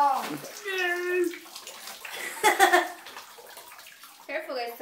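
Water pours into a bathtub during children's bath time, a steady splashing rush running beneath excited children's voices and adult talk, with brighter splashes near the middle.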